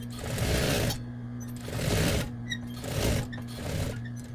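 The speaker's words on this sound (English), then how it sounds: "Pull your elastic and just sew straight across it." Sewing machine stitching straight across elastic on a Lady Liberty costume sleeve, four close, rhythmic bursts of motor whir with brief easings between them, loud and close with no talking.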